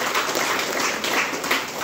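Audience applause in a hall, a brief burst of continuous, dense clapping at a steady level.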